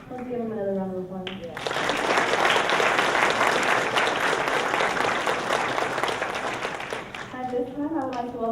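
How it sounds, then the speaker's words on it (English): A crowd at a senior graduation ceremony bursts into loud, sustained applause after a speaker's voice, the dense clapping continuing for several seconds before fading under renewed speech at the end. "Let's give him another round of applause"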